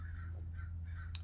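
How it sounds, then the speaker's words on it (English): Crows caw in a few hoarse calls, fairly faint and distant, over a steady low background hum. "we'll appreciate the crows"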